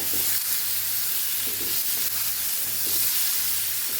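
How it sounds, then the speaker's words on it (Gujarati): Tindora sambharo sautés in a pan of hot oil, giving a steady, close sizzle with soft stirring scrapes recurring every second or so and no voices. "સરસ આપણે સંભારાને સાતળી લેવાનું છે।"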